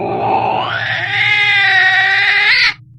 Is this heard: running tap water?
no